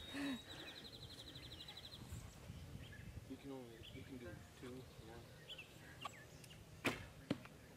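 Arrows striking a 3D archery target on an outdoor hunting-challenge course in Wisconsin, a couple of sharp thuds near the end over a steady bed of birdsong and distant voices.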